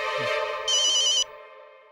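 A phone ringtone plays a short bright electronic burst over a sustained tone, then cuts off and fades out.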